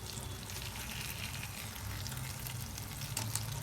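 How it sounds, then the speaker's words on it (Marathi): Fish frying in a pan gives a steady, dense sizzle that holds at an even level throughout, with faint crackles near the end and no voices. "एकदम भारी अशी मच्छी फ्राय व्हायला लागली आहे"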